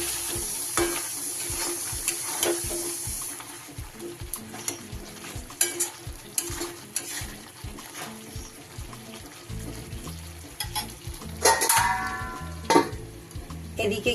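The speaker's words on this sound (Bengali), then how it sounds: "একটু নাড়িয়ে দিলাম হালকা হাতে" Chicken dopiaza with yogurt, watery from its released juices, is stirred gently in a pan: a run of soft rhythmic scrapes and clinks over a low simmering sizzle, close and alone without speech.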